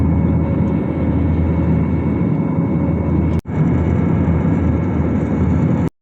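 Steady, loud cabin roar of an airliner in flight, a constant broadband engine and airflow drone with one brief dip partway through, no talking.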